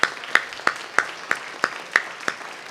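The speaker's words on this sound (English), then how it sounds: "So give them all a great big round of applause." Audience clapping at the AltaSea open house celebrating the Ti'at Society, a steady, evenly spaced run of sharp claps, moderately close, with no talk over it.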